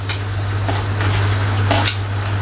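Onions and curry leaves fry in hot oil for dal fry, giving a loud, continuous close-up sizzle with a low steady hum beneath and a few brief bursts of crackle.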